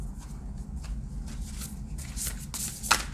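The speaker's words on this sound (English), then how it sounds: "Another good shuffle where I'm actually in frame." Tarot cards are shuffled by hand at close range, giving soft, riffling bursts and brisk flicks of card stock, ending in a sharper snap, with no talking.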